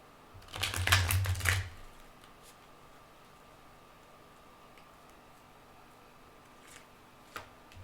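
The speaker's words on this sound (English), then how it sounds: "Shuffle again." A quick riffle and shuffle of tarot cards, a brief papery flutter lasting about a second, followed by quiet with a couple of faint taps.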